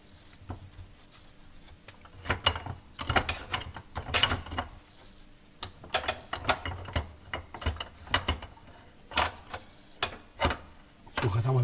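Cloth-wrapped wood being clamped in a bench vise gives a series of close metallic clicks and knocks as the handle turns, with irregular spacing and quieter handling noise between them.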